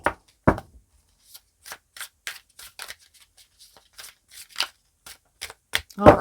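Tarot cards being shuffled and cut, a scattered series of short, dry papery flicks and slaps at close range with quiet gaps between them.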